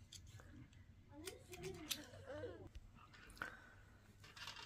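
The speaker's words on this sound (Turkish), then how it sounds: "Şimdi bunun fazlasını keseceğim ve temizleyeceğim." Scissors snip off excess yarn from a two-colour knitted shorts romper in a few quiet, close cuts and rustles, with faint soft vocal sounds underneath.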